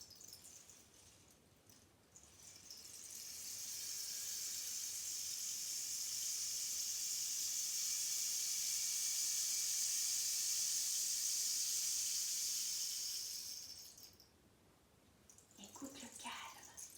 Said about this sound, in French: Peut-être ça te fait penser à la pluie,